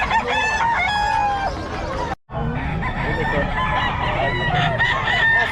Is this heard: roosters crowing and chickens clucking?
yes